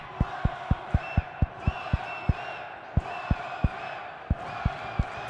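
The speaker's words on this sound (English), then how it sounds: "Listen to the crowd here at the Davidson Fitness Center" Crowd noise at an NWA wrestling show in the Davidson Fitness Center, a steady murmur of voices with a few whoops under a regular series of sharp, loud thumps, like bodies or feet hitting the ring.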